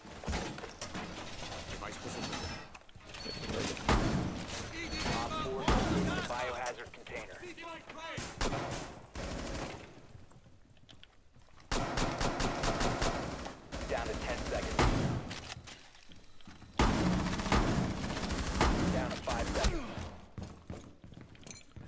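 Gunfire in Tom Clancy's Rainbow Six, several bursts of rapid shots and single cracks separated by quieter stretches, with players talking over the action at points.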